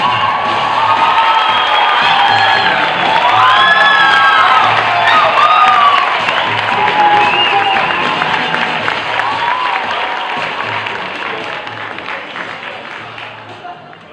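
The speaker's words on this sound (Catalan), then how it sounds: "us demano un fort aplaudiment pel nostre estimat Berni!" A comedy-night audience cheers, whoops and applauds a comedian taking the stage for a stand-up monologue, a loud, dense crowd roar with shouts that slowly tapers off over fourteen seconds.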